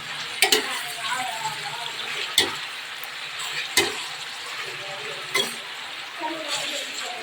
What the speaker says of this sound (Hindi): इससे जल्दी फ्राई हो जाएगी प्याज